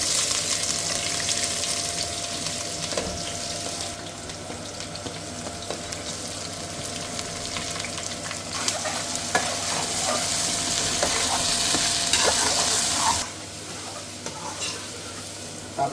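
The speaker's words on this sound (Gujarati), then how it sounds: "તો ચલો આપણે છે ને હવે ડુંગળી નાખી દઈએ." Chopped onions fry in a pan as a base for tandoori chicken, giving a steady, close hiss and sizzle with scraping spoon stirs throughout and a brief louder rush near the end.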